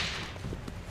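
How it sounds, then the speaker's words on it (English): A whip cracked by the Taskmaster gives a single sharp snap within a dense, noisy wash of sound, lasting only a moment with no voices. "the Taskmaster cracks his whip"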